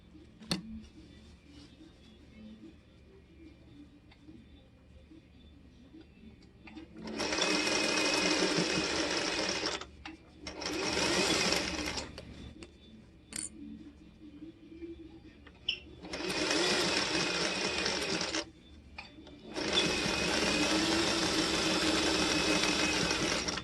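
A sewing machine stitches patchwork pieces in four bursts of steady fast whirring, the longest lasting several seconds, separated by quiet pauses with faint background hum and no talk.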